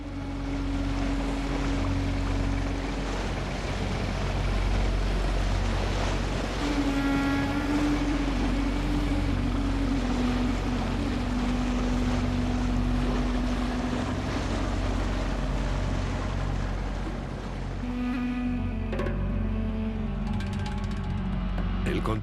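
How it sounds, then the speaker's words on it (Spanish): Cargo barges carrying timber, steel and building materials along a canal toward the Yangtze River, bound for Shanghai: a steady low engine drone with water wash and wind rumble, continuous and fairly loud throughout. "Las barcazas transportan madera, acero y otros materiales de construcción por el canal hacia el río Yangtze"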